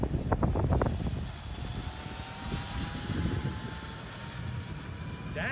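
A Losi Promoto RC motorcycle races down a parking lot, its electric motor giving a steady, fairly loud whine that holds for the whole stretch with slight swells as it passes.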